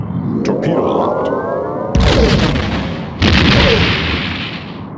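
Starship torpedo fire and explosions in the Star Trek TNG: A Final Unity game, against a Romulan warbird: two heavy booming blasts about a second apart land over a rumbling, whooshing sci-fi background with a faint voice.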